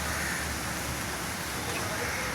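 Steady rain falling through a full-day downpour, a dense even hiss of drops spread across the whole stretch with no pause, loud and close, with no voices over it.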